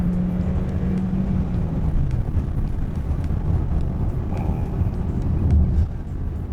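A Hyundai Staria Hybrid MPV with a 1.6 turbo engine under hard acceleration on level road, heard from the cabin as a steady low engine drone with rising tone, mixed with road and wind noise, and no voices.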